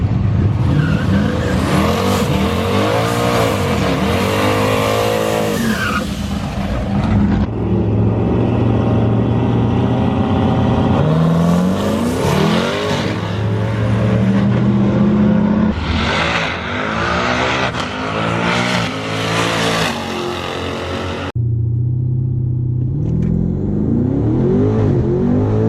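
A twin turbo Camaro ZL1 accelerating hard from 0 to 100 mph, a loud, close engine roaring up through the revs in repeated surges with gear changes, brief tire squeal and turbo whine across nearly half a minute.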